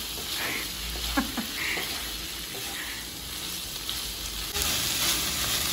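Quiet frying of shrimp and vegetables for chop suey in a non-stick pan, a soft steady sizzle with faint stirring and scraping, no voices, the hiss growing slightly louder near the end.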